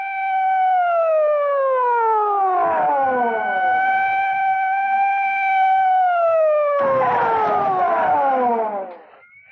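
Police car sirens wailing on a runway in a Thunderbirds puppet adventure, several overlapping sirens sweeping steadily up and down, loud and close, with bursts of engine rumble behind them.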